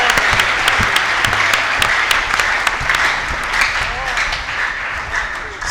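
A church congregation acclaims with sustained applause and crowd noise that fills the space, dense and loud throughout, with voices mixed into the clapping.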